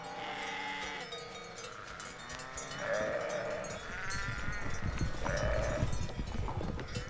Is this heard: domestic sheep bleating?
yes